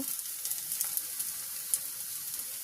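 A dosa fries in oil on a hot pan with a steady, faint crackling sizzle, dotted with small pops close by and no talking.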